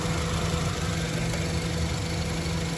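A 2016 Honda Brio E CVT engine idles smoothly and steadily, a close, even mid-low hum with a faint vibration and no breaks, nobody talking.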